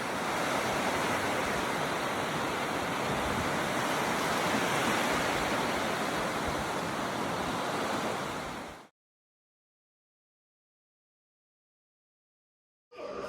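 Ocean surf at Chao Lao beach in Chanthaburi, Thailand, a dense, steady roar of breaking waves that fills the first nine seconds, then silence before a brief return at the very end.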